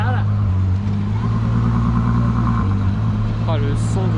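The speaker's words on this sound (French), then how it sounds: "Oh, le son du V12, c'est insolent." A Ferrari V12 passes on a Monaco street during a cars and coffee gathering, its loud, sustained engine drone close by with a brief rising rev near the end, while people talk over it.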